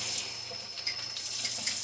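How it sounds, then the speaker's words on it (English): Hot water runs from a kitchen tap in a steady hissing stream, close and continuous, with no one speaking. "add some hot water to it"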